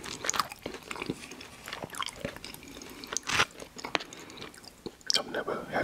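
McDonald's food, including Oreo McFlurry, chicken nuggets and a fish fillet with ranch sauce, is chewed close to the mic, with crunchy bites and wet squishy mouth sounds in an irregular rhythm and soft speech now and then.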